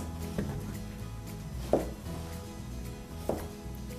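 A knife chops Italian zucchini into large cubes, with three separate, crisp thunks spaced a second or more apart over a low, quiet background hum.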